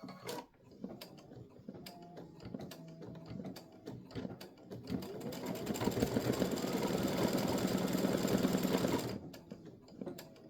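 An embroidery machine stitches free-standing lace bat earrings, first with short irregular whirring bursts, then a loud, steady, dense mechanical hum for several seconds before it abruptly stops.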